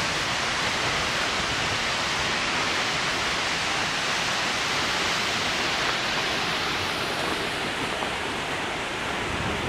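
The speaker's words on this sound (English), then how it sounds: "this waterfall that you can apparently walk behind" A loud, constant roar of a waterfall in Iceland's south coast fills everything, dense and unbroken with no other sounds standing out.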